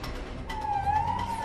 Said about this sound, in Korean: 사이렌을 울려서 따라가는데도